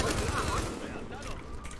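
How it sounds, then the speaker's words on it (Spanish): Gunfire in The Division shooter game, a dense, loud spray of shots in the opening moment that thins out, with a voice talking over it. "¿Por qué me disparáis?"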